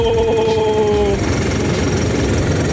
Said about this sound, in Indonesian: Kedengeran ya dong suaranya. Diesel ini geter.